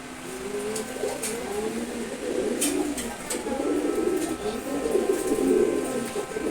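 A male chila pigeon coos nearby in repeated rolling calls that build slightly over several seconds against a light background hum.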